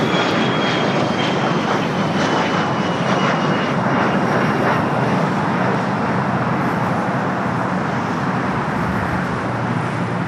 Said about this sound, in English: Royal Air Maroc 747-400. Just arrival here on the south side